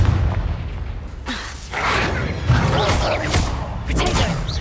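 Booming thuds from a Confringo blasting spell in Hogwarts Legacy, several heavy explosive bursts in quick succession with rumbling low-end crackle between them.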